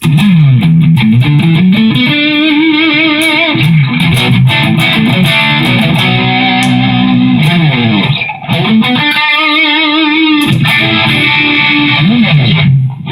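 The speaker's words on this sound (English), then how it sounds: "Here's the overdrive on this channel." Loud electric guitar through the overdrive channel of a Digitech RP 360xp and Crate half stack plays gritty, sustained chords and bending riffs continuously, with a brief pause near the end before resuming.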